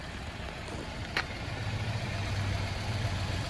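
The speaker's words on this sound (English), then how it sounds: "Along the front of the Outback, it's very quiet. You can barely hear the boxer engine." A 2015 Subaru Outback 2.5i boxer engine idles quietly as a steady, low, smooth hum heard from the front of the car, with faint broadband noise and a soft click partway through; nobody talks.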